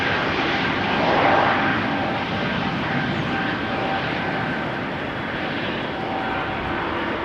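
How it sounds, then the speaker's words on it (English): Steady broadband roar of a Boeing 737 airliner's engines a short distance away as it taxis toward the runway at rainy Amsterdam Schiphol Airport, rumbling continuously with a slight swell near the start, no voices. "KM 737 passed by in the foreground, also going to the runway by the looks of it."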